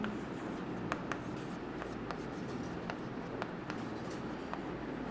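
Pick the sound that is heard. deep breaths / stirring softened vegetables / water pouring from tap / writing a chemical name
writing a chemical name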